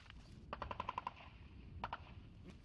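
Machine-gun fire at front-line trenches near occupied Yasynuvata sounds as a quick distant burst of about seven rapid shots, then a short pause and a brief second burst of two or three, faint against rainy outdoor background.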